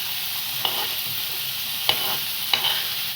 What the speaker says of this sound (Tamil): இப்போ நம்ம முட்டையை இதில் உடச்சி ஊற்றணும்.